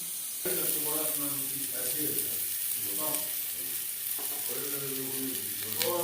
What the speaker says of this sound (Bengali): হলুদের গুঁড়ো, লবণ, হলুদ দিয়ে আলু হালকা করে ভেজে নেব।